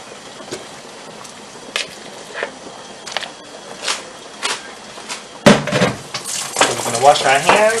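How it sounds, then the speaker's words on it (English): Pork chops going into a saucepan: scattered clinks and scrapes of utensils and pan, then a sudden loud sizzle and spitting fry that keeps crackling near and steady to the end. "I'm using pork chops. Place that into the saucepan."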